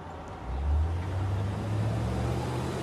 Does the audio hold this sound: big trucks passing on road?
yes